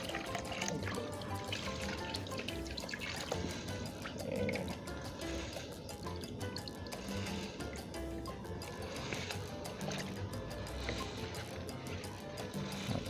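Fresh water pours into a container during betta fish breeding, making a steady, continuous splashing rush that stays close and fairly even for the whole stretch, with no talking.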